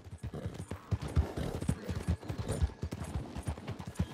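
Horse hooves clip-clop in Red Dead Redemption 2, a steady run of close, loud footfalls with no talking, with other game sounds faintly behind.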